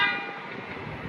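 A loud vehicle horn honks in a Taco Bell advert, one steady blaring blast with no talk over it.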